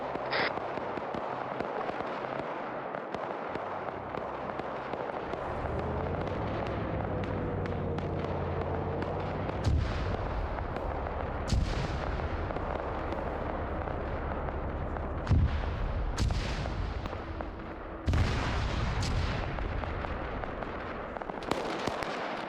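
Rocket artillery fire in a military video game, a rapid series of sharp cracks and bangs over a steady low rumble of battle, some close and loud, others more distant, with no voices.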